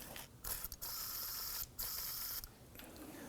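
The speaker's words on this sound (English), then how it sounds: "I'm going to slowly work this back and forth until we can get that bolt pretty much out" A ratchet clicks and a tool grinds as a rusted bolt is worked back and forth on the rear upper control arm of a 2008–2011 Ford Focus, in repeated quiet bursts separated by brief pauses.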